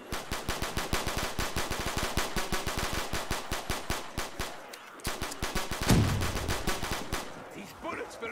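Rapid automatic gunfire from Black Ops 3 Custom Zombies, a steady run of close, loud shots followed by a few more scattered bursts and impacts.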